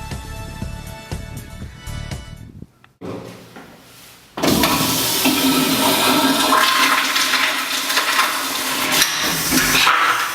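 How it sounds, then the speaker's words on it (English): A school bathroom toilet flushes, opening with a sharp mechanical clack and then a loud, sustained rush of water that runs to the end without any voices. "Toilets are one of the major ways we waste water here at Leland."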